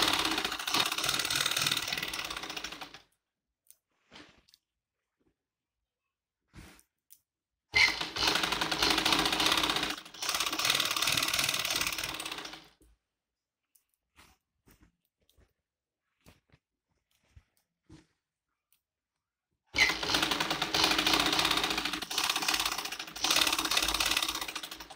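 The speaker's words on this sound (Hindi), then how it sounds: "इस पर तिरछी सिलाई लगाऊंगी, मतलब सिलाई को सीधा नहीं लगाना है।" A sewing machine stitches chanderi fabric for a salwar in three separate runs of fast, steady mechanical whirring and clatter. Near-silent pauses with small clicks fall between the runs.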